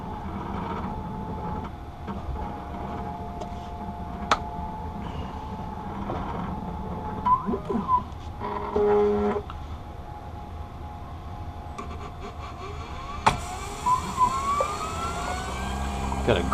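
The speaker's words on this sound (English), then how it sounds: "it's going to trace the front surface, measuring the thickness of the lens to know exactly where to place the bevel" Lens edging machine tracing the front surface of a prescription eyeglass lens and making its first cut, a steady mechanical hum with whirring motor tones and brief clicks and shifts, close and moderately loud.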